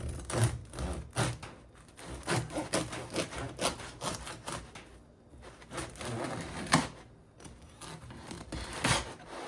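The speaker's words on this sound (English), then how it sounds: "So let's take our bread knife and cut into this." Bread knife sawing through a crusty einkorn sourdough loaf, rough scraping strokes that crunch and rasp in an uneven rhythm, close up and fairly quiet with no talking.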